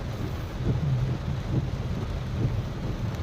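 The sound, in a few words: rain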